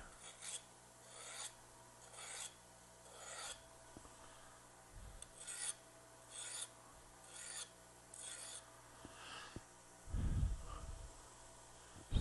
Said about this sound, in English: But that's how I touch up my skew.